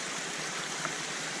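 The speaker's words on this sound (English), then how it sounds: "made it down here to the stream. Pristine, clear." A clear mountain stream in Idaho's backcountry flows with a steady, close, even rushing and gurgling, and no one speaks.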